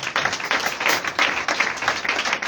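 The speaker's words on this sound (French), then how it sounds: "Donne une acclamation pour le Seigneur." A church congregation at a Thursday worship service claps in praise of the Lord, a dense, steady run of many hands beating together with slight surges, filling the whole stretch without speech.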